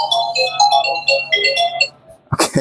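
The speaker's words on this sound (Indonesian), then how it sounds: "Oke, ada telepon masuk." A phone's melodic ringtone sounds for an incoming call during arrow-making work, with bright repeating tones for about two seconds, then a short burst of handling noise.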